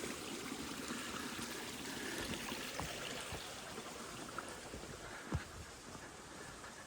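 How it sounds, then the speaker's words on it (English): A small stream bubbles and trickles beside Agden Reservoir in the Peak District, a soft, steady, continuous water wash heard fairly faintly outdoors with no voices. "Another little stream you can probably hear bubbling there."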